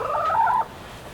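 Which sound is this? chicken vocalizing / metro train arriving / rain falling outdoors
chicken vocalizing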